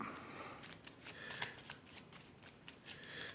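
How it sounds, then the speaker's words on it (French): A draw pile of cards being reshuffled during a solo game of the board game Maquis, quick papery riffles and slides repeating close by at a modest level, no speech. "La pioche est vide, on va donc du coup remélanger."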